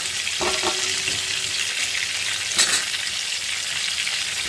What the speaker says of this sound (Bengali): এটা আমি কিন্তু একটু লাইট ব্রাউন করে কিন্তু ভেজে নেব